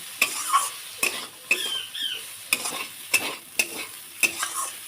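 Frying in oil in a pan, with a soft sizzle punctuated by repeated sharp spatula scrapes and taps against the pan at roughly regular intervals, close and clear with no talking.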